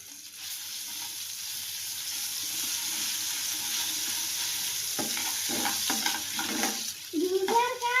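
Ginger garlic paste frying in a little oil in a pan, a soft, steady sizzle that swells slightly, with stirring scrapes and sputters toward the end, close by.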